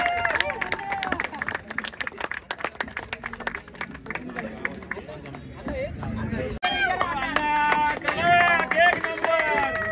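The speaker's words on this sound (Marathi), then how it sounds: "आता जोरदार टाळ्या वाजवत आहे" Scattered clapping rises from a crowd at a tennis-ball cricket tournament ceremony honouring a senior club member, mixed with chatter and lively talk, then music with voices takes over in the later part.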